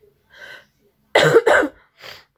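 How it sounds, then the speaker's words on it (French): A person coughs twice in a tight pair, loud and close, with softer breaths just before and after. "je tousse dans la gêne en fait"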